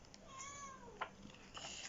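A cat meows once in a long drawn-out rising and falling cry, fairly faint and close, followed by small indoor noises.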